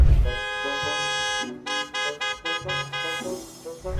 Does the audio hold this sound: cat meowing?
no